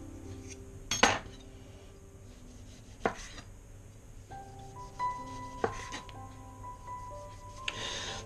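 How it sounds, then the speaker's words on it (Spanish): A knife cutting tomato into slices on a board, a few sharp separate knocks and clicks spread over several seconds, close but fairly quiet against a low background hum. "El tomate haremos unas rodajitas que las colocaremos arriba del todo."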